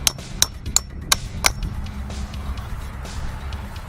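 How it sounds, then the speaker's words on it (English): A hammer drives a metal nail spike into the ground during a wall installation, giving five sharp, evenly spaced strikes in quick succession, followed by quieter background noise. "You've got to use a hammer."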